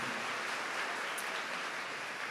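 A church audience applauds at a Catholic priest's talk, a steady even wash of many clapping hands with no voices over it.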